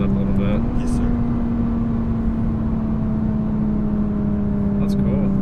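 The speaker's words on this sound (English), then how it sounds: "definitely sounds different in race mode. I think you can tell the exhaust kind of opens up a little bit." Steady engine drone inside a 2017 Nissan GT-R Premium in race mode with the exhaust opened up, a low sustained exhaust tone, a slight pitch step early on, and a person talking over it.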